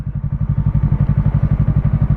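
A motorcycle engine chugs during a morning ride, a close, loud, rapid pulsing throb at a steady rhythm throughout.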